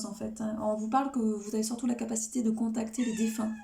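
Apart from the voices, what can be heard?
cat meowing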